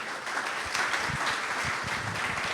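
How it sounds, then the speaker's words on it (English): An audience at a live agtech show claps steadily for the first two speakers, a dense mid-level patter of hands that keeps going for the whole moment without a break. "Let's give another round of applause for our first two speakers"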